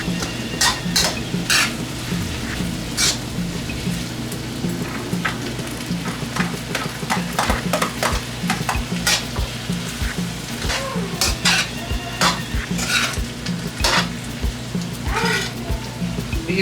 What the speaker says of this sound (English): Now we want to add our carrots